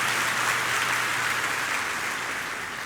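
A church congregation applauds during worship, producing a steady, dense wash of clapping that holds level and then slowly tapers toward the end.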